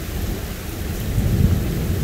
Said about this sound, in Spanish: Escuchen los truenos